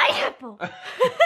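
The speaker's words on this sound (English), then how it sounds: "I'm gonna sneeze." A woman gives a sharp, breathy sneeze at the very start, followed right after by a short spoken word and a faint laugh-like exhale.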